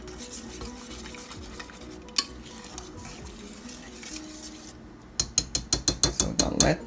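A whisk works through mac and cheese sauce in a pot, a soft scraping swirl that breaks into a quick run of sharp, rhythmic clinking strokes near the end.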